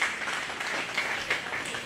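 Audience at a county fair 4-H/FFA goat show applauding a young exhibitor, continuous crowd clapping throughout the short stretch.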